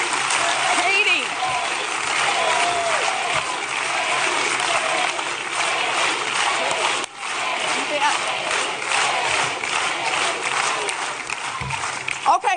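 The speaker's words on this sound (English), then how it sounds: "I like this cheering because it makes the next part easier." A large crowd at a 2016 political rally in Philadelphia cheers and applauds in a sustained roar of clapping, loud and steady, with a brief dip midway before it swells again.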